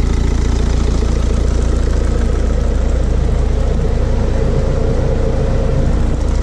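A BMW 730d F01 diesel engine idles loudly and steadily up close during carbon cleaning, a continuous low rumble with a slight knocking texture and no voices.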